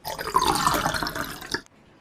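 Leftover cactus juice poured from one container into another, a short close trickling splash of liquid lasting about a second and a half before stopping abruptly.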